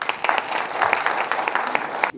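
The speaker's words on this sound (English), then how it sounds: "Big applause to him." Short burst of steady, full applause from a banquet crowd at a Lions Club honour dinner, many hands clapping together close by before it cuts off abruptly.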